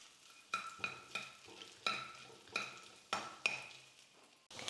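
Crushed fresh ginger and garlic sauté in a pan for tomato soup, with a spoon stirring and scraping in short repeated strokes over a soft steady sizzle.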